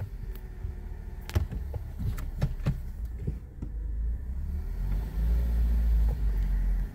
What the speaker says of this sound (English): I'm just going drive, giving it some throttle, reverse, some throttle, let it learn the touch point, back and forth a bunch of times